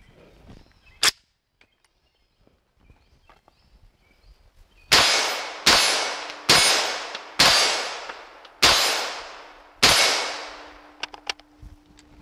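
An MSAR STG 556 rifle fires blaster ammo outdoors: six loud sharp reports spaced about a second apart, each with a ringing decay, after an earlier single clack.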